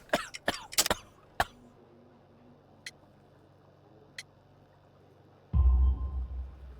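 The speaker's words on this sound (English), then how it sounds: "You have a severe cough." A man with coal dust in his lungs, in Sherlock Holmes: The Devil's Daughter, lets out a quick cluster of harsh, close coughs, then a few faint ticks in near-silence before a louder rumble swells at the end.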